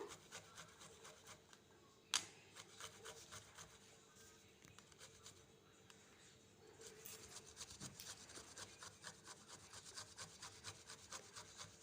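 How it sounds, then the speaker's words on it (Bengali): Ginger being grated for egg pakora, a quiet rhythmic rasping scrape repeated in short strokes, with one sharp knock partway and a faster run of strokes toward the end. "এবারে কিছুটা আদা ঘষে নিলাম"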